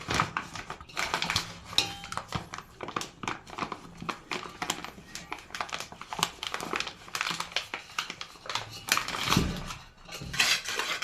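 Flour and sugar being mixed in a bowl for beignets, with a steady run of close scraping, clinking and crinkling clatter that continues throughout, loud and busy with no pauses.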